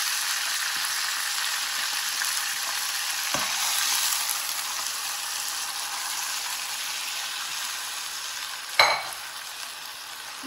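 Grated potato fries in ghee with a soft, steady sizzle, close and fairly quiet, with a couple of sharp spoon clatters as it is stirred and mixed.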